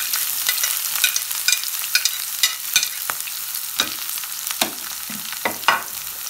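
Shallots, ginger, green chillies and curry leaves frying in hot oil for a prawn curry: a bright continuous sizzle broken by repeated sharp spatula scrapes and stirs, close and alone.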